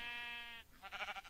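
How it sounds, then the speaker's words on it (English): A sheep in a Minecraft-style video game gives a short bleat, a wavering held note followed by a rougher fluttering cry, quiet and alone. "can you hear that, guys? Sheep!"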